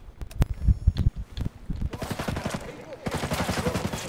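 Rapid bursts of gunfire from a floor below in Tom Clancy's Ghost Recon Breakpoint crack out in clusters, loud and sharp at first, then a denser rattling volley continues steadily with a faintly muffled, distant quality.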